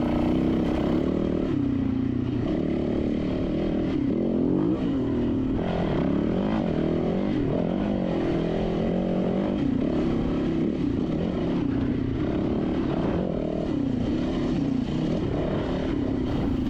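Dirt bike engine droning steadily during a desert hare and hound race, loud and close throughout with rising and falling revs as the rider works through the terrain.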